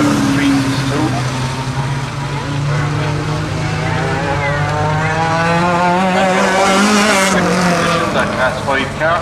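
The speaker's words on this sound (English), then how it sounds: "So our new race leader is the Class 6 car of Raven Darcy there" Class 4, 5 and 6 race cars roaring around a track, engines rising and shifting pitch continuously and loud, with commentary running over them.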